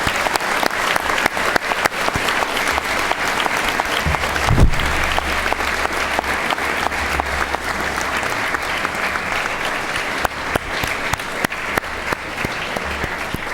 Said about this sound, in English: join me in a round of applause to say thank you to those who've helped you